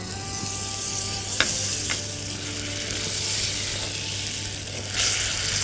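Butter goes into caramelized sugar in a pan, producing a steady bubbling sizzle with a low hum beneath and a couple of sharp clinks from the utensil.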